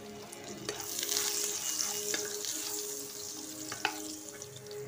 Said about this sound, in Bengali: সরষের তেল গরম করে প্রথমে আলুগুলোকে ভেজে নেব